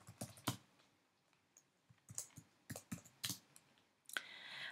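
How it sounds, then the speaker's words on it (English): Typing on a computer keyboard, a few short bursts of crisp key clicks with pauses between them, close and fairly quiet, no voices. "Then you type your message."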